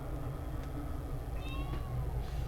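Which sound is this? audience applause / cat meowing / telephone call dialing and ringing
cat meowing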